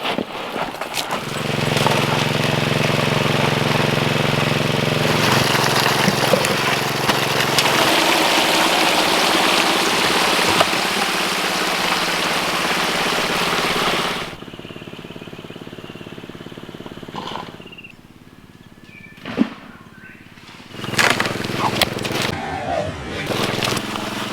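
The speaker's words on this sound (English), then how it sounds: "In between bucket runs, I'm turning the pump back down to idle." A water pump engine driving a gold sluice drones loudly and steadily for about fourteen seconds, then drops to a quieter idle broken by a few clunks and bumps.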